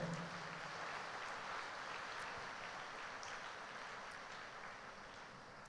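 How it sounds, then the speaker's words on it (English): Congregation clapping during a Catholic retreat service at a retreat centre in Bangalore, a steady dense wash of applause lasting throughout, fairly distant and even, with no voices over it. "Clap your hands and praise the Lord."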